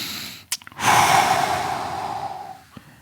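A long, breathy exhale during a lower-back stretching exercise, one sustained outward breath lasting about two seconds, heard close up after a couple of brief rustles, with a short click near the end.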